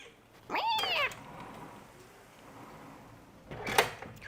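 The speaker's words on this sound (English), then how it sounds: "Crazy cat." A house cat meows loudly and close by, one rising and falling call followed a few seconds later by a second, shorter meow, with quiet room noise between them and no talking.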